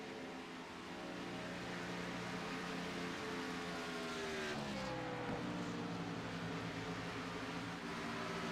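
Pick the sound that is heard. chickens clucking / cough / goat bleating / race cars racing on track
race cars racing on track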